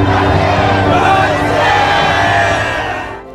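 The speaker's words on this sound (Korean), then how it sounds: "우리나라 곳곳에서 커다란 함성이 울려 퍼졌어" A large crowd roars in a loud, sustained mass shout, evoking the 1919 March First independence demonstrations in Korea, filling the whole stretch before tapering off at the end.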